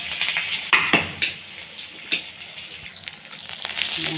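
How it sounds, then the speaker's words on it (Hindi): Green chilies and cumin seeds fry in hot oil with a close, bright sizzle and a few sharp spits and pops over a steady hiss. "लंका के जीरा फ्राई कर दबा"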